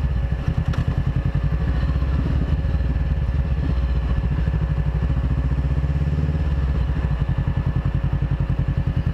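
A Honda CBR500R motorcycle ridden along back roads in New Jersey, its engine giving a loud, steady, rapid pulsing drone close by, with wind rush and no talk.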